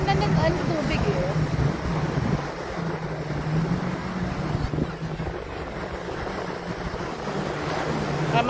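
Sea waves washing in at a busy swimming beach in Dubai, a continuous broad surf wash with wind buffeting the microphone and people's voices murmuring in the background.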